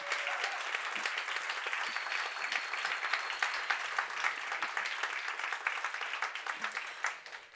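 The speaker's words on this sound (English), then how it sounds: "we can have a big round of applause for them" A Falling Walls Science Summit 2025 audience delivers a big, sustained round of applause for the pitch presenters, a dense wash of many hands clapping steadily for several seconds before tapering at the end.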